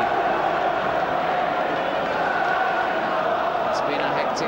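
Delirious home crowd in the stadium at a Southampton versus Manchester United football match: a broad, steady roar of stadium noise holding at a constant level throughout, with no distinct claps or chants standing out.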